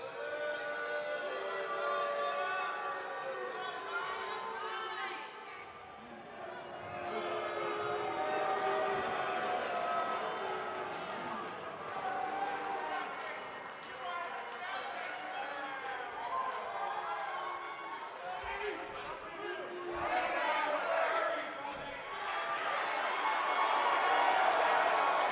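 An arena crowd at an NWA women's championship wrestling match keeps up a continuous roar of cheering and shouting, with commentators talking over it throughout.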